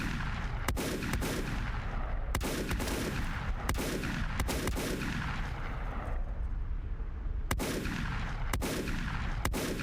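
Steady, loud booming gunfire from a gun in the steampunk survival game Volcanoids, with sharp repeated shots at irregular intervals over a continuous rumbling, echoing background.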